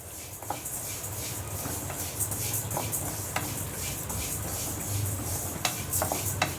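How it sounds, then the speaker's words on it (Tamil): Prawns fry in a pan for a Ramadan prawn pickle, a soft, steady sizzle dotted with scattered pops and crackles throughout, heard alone without speech. "இறை நம்ம போட்டது வெந்துக்கிட்டு இருக்கு"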